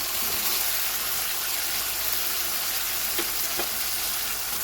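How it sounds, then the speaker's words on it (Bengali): Fried onion, ginger and garlic masala goes into a hot pan for paneer, giving a steady, loud broadband sizzle that holds throughout with a couple of faint clinks and no talking. "এরপর যেটা মশলাটা ভেজে রেখেছিলাম পেঁয়াজ আদা রসুন, সেটা দিয়ে দেবো।"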